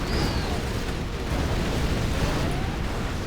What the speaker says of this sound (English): But we have a nuke cannon. Pretty much just going to take care of that.